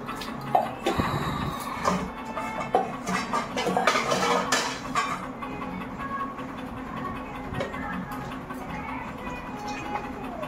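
Kitchen dishes being washed and tidied, with irregular clinks and clatters of pots, plates and cutlery over steady background noise, busier in the first few seconds and then thinning out.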